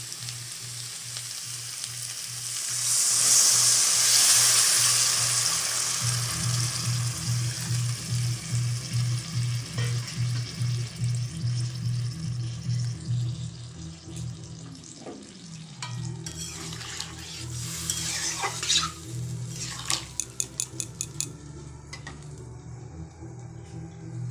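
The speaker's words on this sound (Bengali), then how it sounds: "ঝোল কি সুন্দর টকবক করে ফুটছে" A pan of paneer curry sizzles and bubbles steadily, settling into a rhythmic rapid popping, with a few clinks and tapping sounds near the end.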